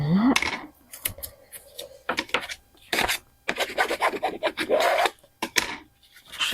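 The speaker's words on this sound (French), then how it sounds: "Alors je cherche ma petite raclette." A small scraper scrapes across paper while crafting a Venice-themed Stamperia album page, a series of short rasping strokes at close range, some quick and some drawn out, with brief pauses between them.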